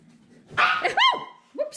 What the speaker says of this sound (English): Dog scared me.